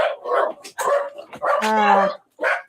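A dog barks several times close by, a mix of sharp barks and a short whimpering yelp, with a person's voice briefly mixed in among the barks.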